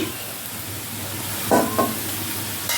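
Mola shutki, small dried fish, frying in a pan over a low constant sizzle, with two quick scraping stirs near the middle, close and without talk.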